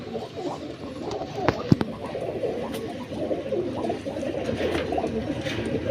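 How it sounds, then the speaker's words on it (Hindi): Domestic pigeons, spotted desi birds, coo continuously in soft overlapping murmurs close by, with a couple of brief sharp clicks or wing flaps partway through. "बहुत ही प्यारे कबूतर लेके आए हैं"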